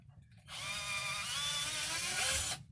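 A power drill bores a pilot hole for a hinge screw in one continuous whine of about two seconds, fairly faint, starting and stopping abruptly.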